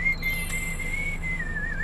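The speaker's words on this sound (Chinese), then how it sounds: "你口哨吹得好好哦， 很稳， 就是很稳" A person whistles a tune on a Taiwanese travel variety show, holding a steady, clear high note that wavers slightly in pitch near the end. The whistle is close and alone, with no talk over it.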